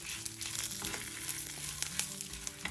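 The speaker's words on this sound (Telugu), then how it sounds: "ఇలా 4 వెల్లుల్లి గబ్బాలను వేసి వేయించుకోవాలి." Garlic cloves and dried red chillies frying in a pan give a soft, continuous sizzle with light crackling, quiet and close, with no talking.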